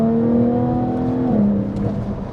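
A 2014 Jaguar F-Type's engine drones loudly from inside the car while driving, holding a steady pitch and then dropping suddenly on a gearshift before settling into a lower hum.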